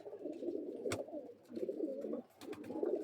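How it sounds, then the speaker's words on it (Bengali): Tippler pigeon chicks at a home loft make soft low cooing murmurs in three short bursts, quiet and close, with a couple of faint clicks between them. "এটা আমার বাড়ির টিপলার কবুতরের বাচ্চা"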